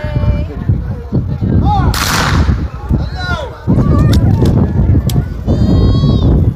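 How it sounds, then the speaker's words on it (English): Volley of rifle fire from 1880s reenactment soldiers firing more or less together, a loud ragged burst of near-simultaneous shots, with voices and outdoor noise around it. "that was the volley fire, in other words everybody fires together, or more or less together, slightly delayed"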